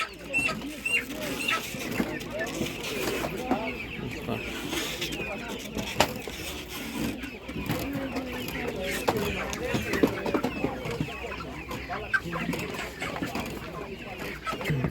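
Hens and roosters at an outdoor livestock market give scattered clucks and calls amid a steady bustle of crowd noise, with people talking nearby throughout.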